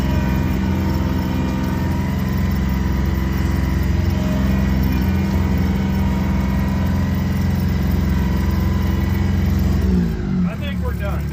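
A Kubota tractor with a stripped front differential, stuck in place, runs with a steady, loud mid-pitched engine drone that holds throughout, and a brief shift in tone comes near the end.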